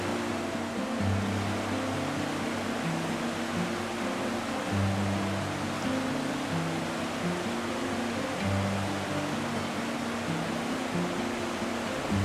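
Culaze waterfall near Cerdon heard from a rocky trail above, a steady broadband rush of falling water that stays loud and constant throughout, with no talk.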